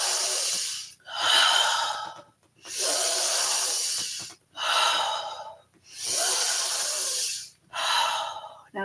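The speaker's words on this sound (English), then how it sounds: "Breathe in." Deep breaths drawn during a guided breathing exercise, a series of long airy inhales and exhales in a slow even rhythm, close and clear, about six breaths with short silent pauses between them.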